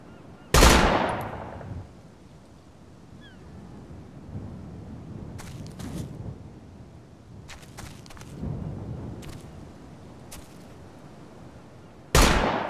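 Machine gun fire in Operation Flashpoint: Dragon Rising, a loud close burst opening the stretch, then rumbling distant rattles and scattered reports, ending with another sharp near blast.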